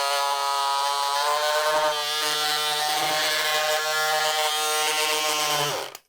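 Battery-powered electric scissors cut through minky fabric, giving a steady, close, buzzing motor hum with a slight ratcheting edge. The hum lasts several seconds and then cuts off abruptly.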